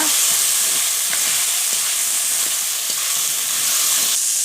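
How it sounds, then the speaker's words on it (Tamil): Potatoes being stirred into a pea kurma curry in a pan: a steady close sizzle with scraping strokes of the spoon, continuous and without talk. "உருளைக்கிழங்கு போட்டதுக்கப்புறம் ஒன்று கூட நல்லா மிக்ஸ் பண்ணிக்கோங்க"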